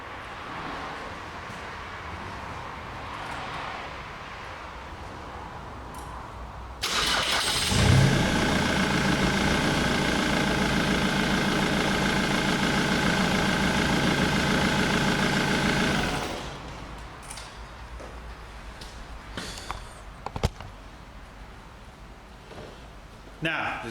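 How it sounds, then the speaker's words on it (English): A replaced second-hand engine in a Ford Mondeo fires up with a sharp start, then runs at a loud, even idle for about nine seconds before shutting off. The garage is quieter before and after. "So let's see if the new engine has worked."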